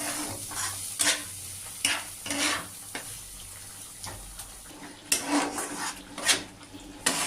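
A spoon stirs and scrapes spice masala with coriander and cumin powder as it sautés in a pan, with soft sizzling beneath repeated clinks and scrapes against the metal at an irregular rhythm, close by and with no talking.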